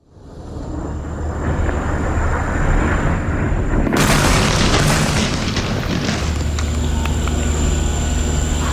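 An airstrike by fighter jets on a hillside near Nabatieh in southern Lebanon, a heavy rumbling roar that swells loud, then a sharp blast around midway followed by a sustained booming rumble.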